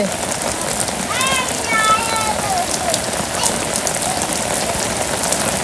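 Heavy rain pours steadily over a Bangladeshi village, a dense, even hiss of drops on surfaces throughout, with a brief rising voiced call breaking through early on.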